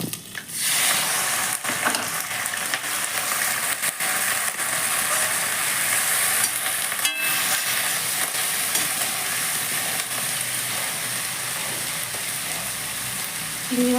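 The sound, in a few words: prawns frying in oil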